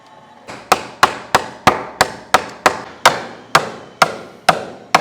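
Hammer blows strike a house wall during renovation, about twelve sharp, loud, evenly spaced impacts in steady rhythm, each with a short ringing decay and no talk over them.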